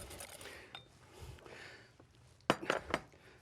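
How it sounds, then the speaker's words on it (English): A spoon stirring yogurt into a salad in a bowl, with soft scraping and a few sharper clinks of utensil against the bowl near the end, close and fairly quiet. "So here, mix the yogurt under it."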